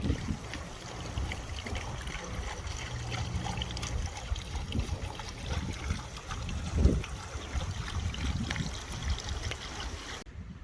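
Gasoline being siphoned into a bone-dry lawn mower tank, a steady, close liquid trickle and gurgle that runs without pause and sits over a low outdoor background rumble.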